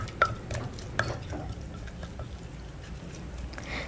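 Chicken rice dipping sauce ingredients pounded in a mortar, with two sharp knocks near the start and then steady soft grinding and scraping close by, no voices.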